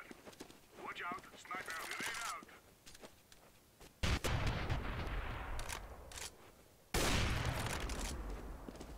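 Automatic rifle fire in a Counter-Strike: Global Offensive match against bots comes as rapid, loud bursts of sharp cracks that follow a voice talking early on.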